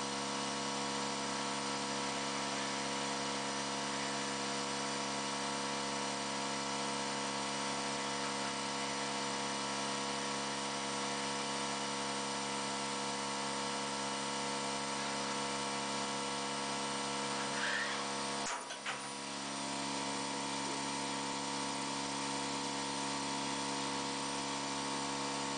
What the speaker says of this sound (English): As soon as it's done with this hole, it's going to drill one other hole.